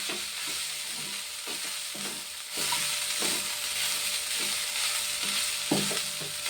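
A spoon stirs tempering spices frying in a pan, with repeated scraping strokes over a continuous close sizzle.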